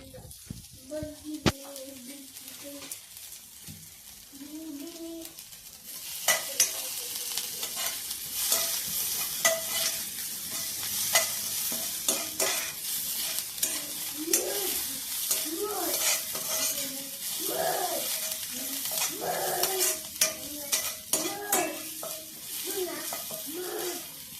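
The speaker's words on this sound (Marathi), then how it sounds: "कोथिंबीर आलं जिरे आणि मिरचीचं वाटण छान परतू द्यायचं" A coriander, ginger, cumin and green chilli paste sautés in a hot pan for a Mahashivratri fasting meal. It starts quiet with a voice, then turns into a steady loud sizzle with repeated spoon-scraping strokes while someone talks intermittently.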